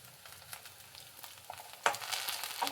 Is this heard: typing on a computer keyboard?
no